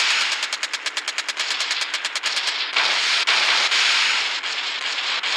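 Rapid machine-gun fire from the video game Gunship Battle rattles in a fast, even stream of bursts, then blends into a dense continuous roar of shooting that stays loud and steady to the end.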